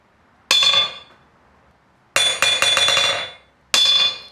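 A hammer strikes an anvil made from railroad track, ringing out bright metallic clangs: one blow, a rapid cluster of bouncing strikes, then a final ringing blow, loud and close.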